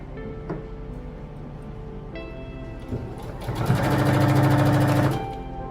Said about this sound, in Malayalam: അരികൊക്കെ ഒപ്പാക്കി വെച്ച് സ്റ്റിച്ച് ചെയ്തെടുക്കുക. സെൻറ്ററിൽ സൂചി താഴ്ത്തിയിട്ട് ലേസും നൈറ്റിയും കൂടെ തിരിച്ചു കൊടുക്കുക.